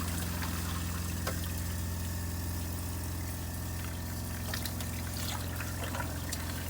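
Water runs steadily from an RV faucet while antifreeze is flushed out of the line, a continuous trickling stream over a constant low pump-like hum, with faint clicks and no talk.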